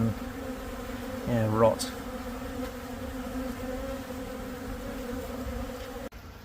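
Honey bees buzz steadily around a row of hives where paralysed bees are dropping, a close insect hum with one louder pass as a bee flies near, under a man's brief speech.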